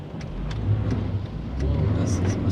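Car tires hissing over a wet road in rainy weather, a steady broadband wash of road and engine noise close by, with faint splashy bursts near the end.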